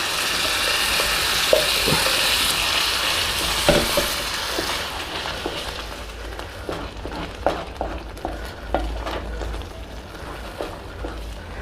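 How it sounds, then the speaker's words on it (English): Tomatoes go into separated oil for a Bihari-style mustard and tomato fish curry, a strong hot sizzle at first that settles into quieter frying, punctuated by repeated spoon scrapes and taps from stirring. "Okay, the oil has separated now, so that tomatoes go in here."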